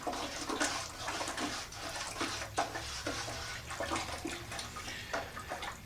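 Black Procion reactive tie-dye powder being stirred into water in a bucket, a steady sloshing, swirling wash of liquid close by with small splashes throughout and a low hum underneath.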